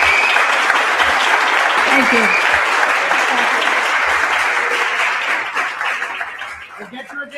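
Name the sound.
conference audience applause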